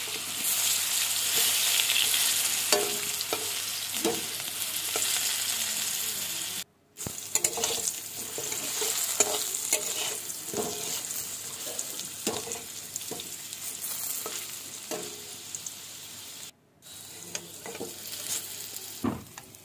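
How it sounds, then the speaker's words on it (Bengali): Potatoes sizzle steadily in hot oil, punctuated by regular stirring scrapes against the pan, close and fairly loud, with no voices. "আর প্রায় আমার আলুটাও ভেজে চলে এসেছে, লাল লাল হয়ে যাচ্ছে।"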